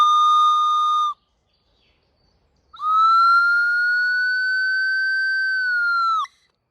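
A handmade wooden whistle gives a short steady tone, stops, then sounds again in a long sustained blow whose pitch slides slightly up as a part is pulled out, clear and close with no talking.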